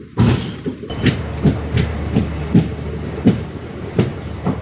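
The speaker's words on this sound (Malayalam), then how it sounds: "അങ്ങനെ നമ്മുടെ ട്രെയിൻ രാമേശ്വരം റെയിൽവേ സ്റ്റേഷനിലേക്ക് കയറിയിരിക്കുവാണ്." Steady clickety-clack of a train entering Rameswaram railway station: evenly spaced wheel knocks, close and loud, over a low rolling rumble, with no voices.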